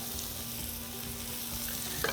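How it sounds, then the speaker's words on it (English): Onion sizzles and crackles steadily in hot oil in a pan, close and continuous, with a faint stir near the end. "I love that sound and that smell of the sauteed onion."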